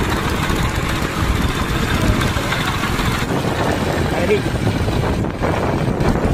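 A vehicle engine runs steadily at slow speed with wind buffeting the microphone, a constant loud drone with no pauses, heard on a village road trip while fish biryani is carried out for roadside people.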